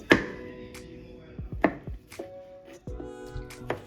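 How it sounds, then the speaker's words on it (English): A knife chops garlic on a cutting board in sharp, irregular knocks, about eight distinct strikes with short gaps between, close and fairly loud with no talk. "I will go ahead and chop my garlic."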